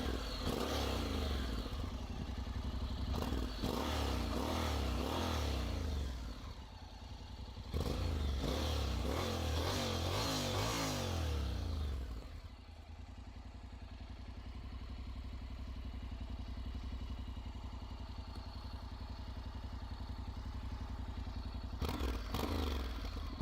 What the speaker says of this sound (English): Let's hear a little the exhaust.